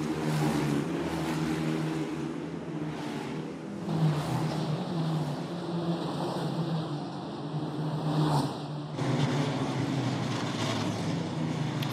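GP3 race cars at the Monaco street circuit running slowly behind the safety car, giving a steady, continuous engine drone with slight rises and falls, fairly loud and sustained throughout.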